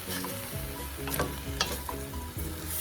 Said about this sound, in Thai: เอาลงไปผัดเลย